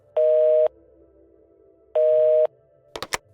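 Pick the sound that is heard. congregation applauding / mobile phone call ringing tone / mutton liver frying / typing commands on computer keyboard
mobile phone call ringing tone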